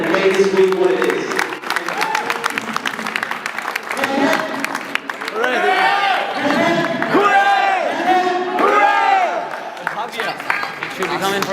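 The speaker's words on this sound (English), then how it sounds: "And with that, please have a huge round of applause for Sanam Arora and her team" Audience at a cricket-themed event claps and cheers, with loud whoops and shouting voices rising over continuous applause, close and lively throughout.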